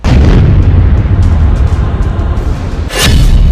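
A bomb explosion effect bursts out as one loud, sustained rumbling boom that fills the whole stretch, with a second sharp blast swelling near the end.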